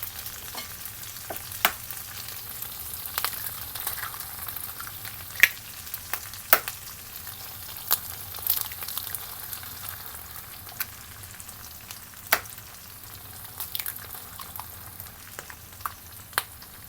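Three eggs frying in a pan for a cheese omelette with tomatoes and beef, giving a steady close sizzle with scattered pops and crackles and a few stirring scrapes, with no talking.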